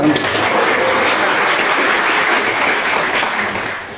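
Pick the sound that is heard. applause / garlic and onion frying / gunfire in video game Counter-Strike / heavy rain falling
applause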